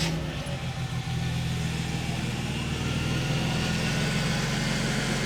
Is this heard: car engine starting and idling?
yes